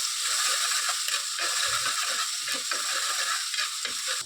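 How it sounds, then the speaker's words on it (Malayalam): Ground onion-garlic paste fries in a hot pan while a spoon stirs it steadily, giving a dense close-up sizzle broken by scraping strokes, with no voices. "ഉള്ളി വെളുത്തുള്ളി അരച്ചതാണ് ഇതും കൂടെ ഇട്ട് കൊടുത്തിട്ടൊന്ന് നന്നായിട്ടൊന്ന് മൂപ്പിച്ചെടുക്കണം"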